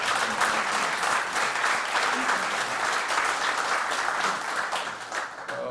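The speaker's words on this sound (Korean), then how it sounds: "잘 먹었으니까 박수 한번." Sustained audience applause fills a breakfast forum of a defense industry society, a dense, steady wash of many hands clapping throughout with no talk over it.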